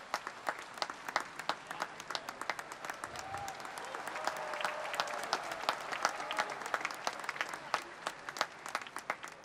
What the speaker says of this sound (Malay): marilah kita memberi tepukan gemuruh